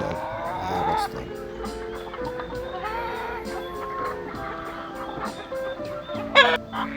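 White D102 roosters and breeder chickens in a pen, clucking and calling in overlapping bursts nearby, with a louder squawk near the end and no clear talk.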